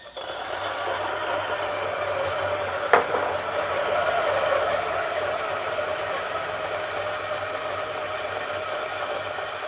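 Two coffee grinders, a Niche Duo and a DF83V, are compared, one grinding an 18 gram dose at a slow 500 RPM. A steady, even motor drone with a gritty burr texture runs throughout, with one sharp click early on and no talk.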